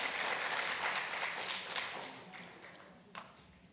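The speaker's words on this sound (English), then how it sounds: "Another big round of applause for the MEC." An audience at an education department reading strategy launch gives a round of applause, dense clapping that starts loud and gradually fades away, with a few scattered claps trailing at the end.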